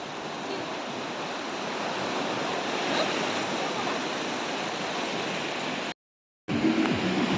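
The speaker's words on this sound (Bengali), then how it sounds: "এই দেখুন পিছনে ঢেউ" Ocean surf at Mandarmani beach, a continuous broad roar of breaking waves close by, steady and loud, with a brief dropout near the end.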